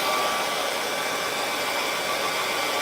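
Hair dryer blowing on a painted city skyline canvas, a constant loud airy roar with no breaks or talking.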